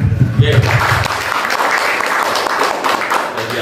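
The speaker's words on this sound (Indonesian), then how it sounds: "Tepuk tangan." An audience claps during an organisational working meeting at Villa Nabilla in Pacet, Mojokerto, with a steady wash of hand clapping that follows a brief burst of a voice at the start.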